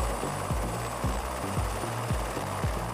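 Steady, rhythmic thudding of helicopter rotor blades beats about twice per second over a constant engine whine, loud and close, with no voices.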